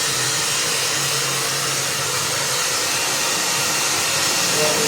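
Blower or hair dryer drying a chicken, a steady loud broadband whoosh running continuously and alone throughout.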